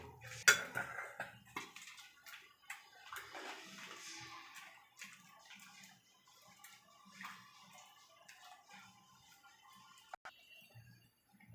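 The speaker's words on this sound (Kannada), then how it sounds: "ಸಾಂಬಾರು ಸರ್ವಿಂಗ್ ಬೌಲ್ ಹಾಕಬೋಣ ಬನ್ನಿ" Drumstick and potato sambar being ladled into a serving bowl, with soft liquid pours, scrapes and light clinks of a ladle against metal pots and dishes, quiet and close with no talking.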